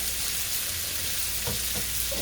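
Linguine pasta frying in hot oil in a pan, a steady close sizzle and crackle throughout with a few brief stirring scrapes near the end.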